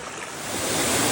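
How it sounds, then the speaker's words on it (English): A small waterfall on a trail in Ricketts Glen State Park gives a steady, close rushing roar of falling water that swells slightly over a brief moment. "Here's another waterfall that doesn't even count."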